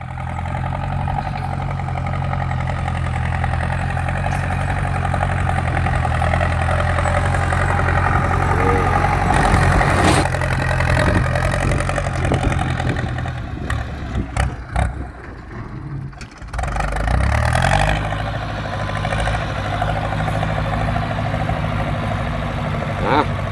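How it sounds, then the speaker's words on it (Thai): A Ford 6610 tractor of about sixty horsepower idles nearby with a steady low diesel rumble, briefly wavering in pitch mid-clip, while people talk over it. "ดูความแรงของเขาเดียวนะ ฟอร์ดหกหนึ่งศูนย์ครับ หกสิบแรงมานะ"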